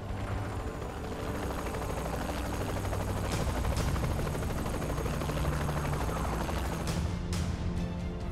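Helicopter rotors and engine in Saints Row The Third Remastered, a steady loud continuous thrum that persists throughout, with a few brief sharp bursts near the end that may be gunfire.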